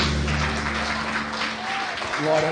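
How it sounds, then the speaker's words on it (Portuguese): A church congregation applauds during a worship service, a continuous wash of clapping with a low sustained tone and faint voices beneath it, swelling slightly at the end. "Só quem recebe, aplaude ao Senhor Jesus."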